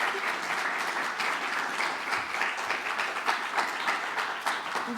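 An audience at a public event on Hurricane Ida relief for undocumented immigrants gives steady, dense applause that stays fairly even and moderately distant throughout.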